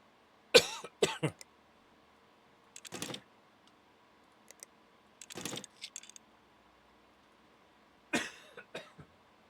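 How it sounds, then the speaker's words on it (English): Several separate coughs from a person at a computer, close and fairly loud, spaced across the stretch with quiet gaps between bursts, a couple coming as quick doubles. "Oh, it's cough."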